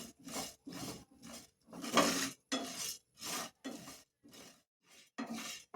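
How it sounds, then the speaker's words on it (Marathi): Spices being dry-roasted and stirred in a pan over low heat for bhakarwadi filling, heard as repeated rhythmic scraping and rustling strokes, close and fairly quiet, with no talking. "आपण स्लो गॅसवरती मसाले भाजून घेऊयात."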